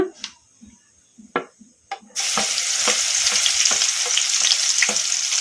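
Crushed garlic is dropped into a pan of lentils frying over a medium flame for a brinjal and onion fry. A few light clinks come first, then a loud, steady sizzle bursts in and continues with faint stirring taps.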